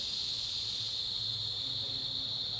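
Crickets chirp in one steady, continuous high trill at dusk outdoors, fairly close and alone, with no talking.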